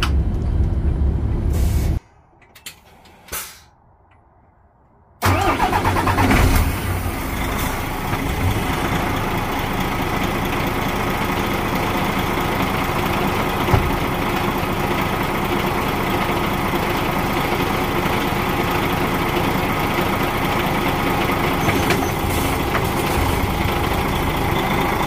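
A heavy truck's engine roars steadily at full throttle during a night shift, loud and continuous after a brief drop near the start, with an air-brake-like hiss and no speech.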